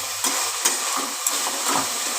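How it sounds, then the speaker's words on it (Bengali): Cabbage being stirred and fried in a pan, a steady close sizzle with a few soft scraping strokes of the spatula, no voices. "এই যে নাড়াচাড়া করছি আমি ভাজা করছি সমানে"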